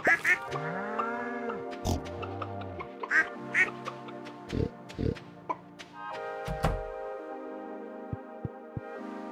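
Cartoonish duck quacks and other bird calls come in a busy, close, loud sequence of honks and squawks over a musical backdrop.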